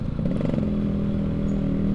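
Yamaha RX King two-stroke motorcycle with a racing exhaust riding along, its engine holding a steady, close, buzzy drone after a brief rev at the start, with no talk.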